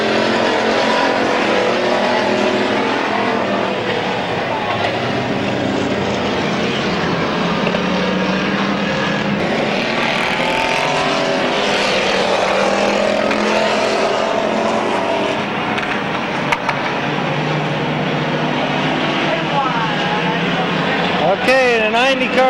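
Race cars roar around Midvale Speedway oval track in 1995, a loud sustained engine drone with rising and falling passes, while an announcer talks over the racing throughout.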